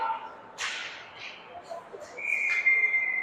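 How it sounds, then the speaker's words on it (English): A referee's whistle sounds at an ice hockey game between Mission and Chesterfield, a shrill sustained blast in the later half over faint arena noise, after a brief scrape near the start. "Get a whistle that time."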